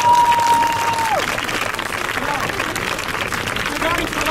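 A crowd at an outdoor dance festival station in Ulm applauds a dance group, loud sustained clapping mixed with cheering, with a brief whistle-like tone at the start.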